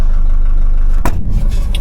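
A 1979 Mercedes-Benz W123 engine is heard close by: a steady idle-like rumble, then a sudden loud burst midway as it catches, settling into a rougher running sound.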